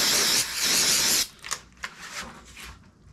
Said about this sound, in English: don't spray your lip with carb cleaner